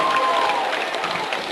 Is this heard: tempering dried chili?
no